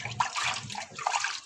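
Water splashes and pours over soybeans in a rice cooker pot, a close, steady sloshing stream with brief bubbly surges.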